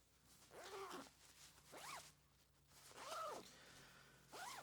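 The zipper on an ultralight puffy jacket is zipped back and forth in four short rasping strokes, close up and fairly quiet, with no talking.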